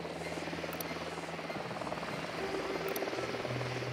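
An enemy helicopter in Ghost Recon Wildlands approaches with a low, droning rotor buzz that shifts and swells under faint game ambience, steady throughout the few seconds.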